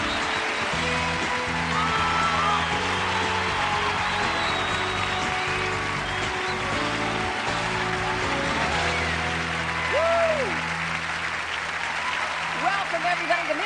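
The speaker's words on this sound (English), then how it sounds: "This is a very rowdy crowd." A large crowd at the 2004 Miss USA pageant applauds and cheers steadily, loud and continuous, with music playing and voices calling out over it.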